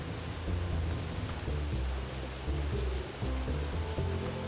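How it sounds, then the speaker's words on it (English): Steady rain falling in the video game Bugsnax, a dense continuous patter with faint rumbling underneath and soft game tones over it, with no talking. "Reason being is because it's raining, and that is very important."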